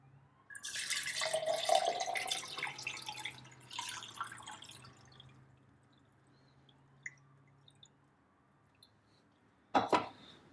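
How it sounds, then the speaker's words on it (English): Water poured into a small travel water heater for French press coffee, a soft trickling splash over a few seconds, then faint drips and a sharp clink near the end, quiet and close. "put your water in."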